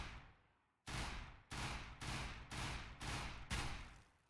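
Rapid bursts of automatic gunfire from a weapon in a shooting game: a faint start, then six loud, evenly spaced broadband bursts about half a second apart, with no voices.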